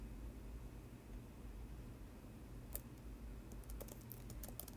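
Quiet computer keyboard typing starts a few seconds in, with short bursts of light clicking keystrokes over a faint steady background hiss.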